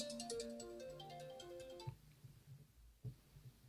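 A phone ringtone goes off with a bright repeating melodic chime for about two seconds, then cuts off, leaving low room rumble and a couple of soft thumps.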